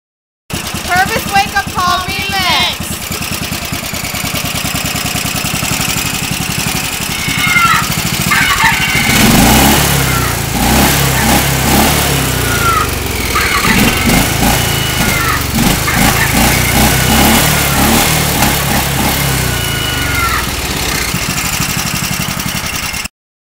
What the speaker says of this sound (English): this is my pimped up tractor.